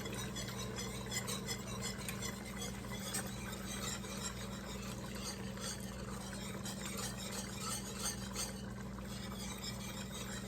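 Skim milk and half and half being stirred together for a potato soup, a soft, continuous swishing and liquid churning with faint spoon contact, quiet and close with a low hum underneath.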